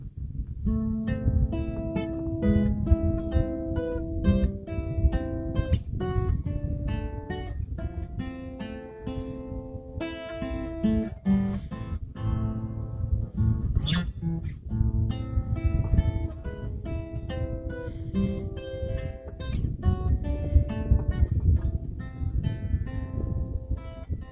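Steady fingerpicked guitar playing a song intro, a flowing pattern of plucked notes ringing together over low bass strings, played alone at a moderate, even level.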